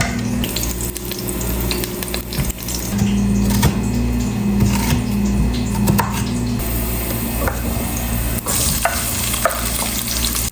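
Chopped garlic, onion and boneless chicken fry in a pan, giving a steady, close sizzle with stirring and scraping throughout and no voices.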